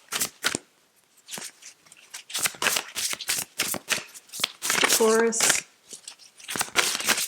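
Sacred Power oracle card deck being shuffled, papery riffling bursts in quick repeated runs alongside a person talking, with a brief clearer flutter midway.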